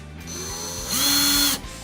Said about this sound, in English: it has plenty of power to drill even large holes quickly